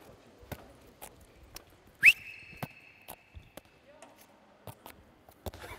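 A coach's whistle gives one sharp, loud blast in a quiet training space, with scattered footsteps, thuds and light movement around it.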